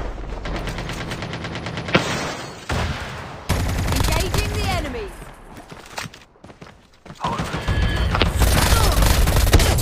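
Rapid bursts of gunfire in a squad-based video game crackle in repeated volleys, loud and close, with short lulls between the fusillades.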